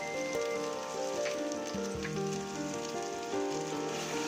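Chicken gravy masala with salt, turmeric and chili powder sizzling steadily in hot oil, a continuous close crackle and spatter with no talking.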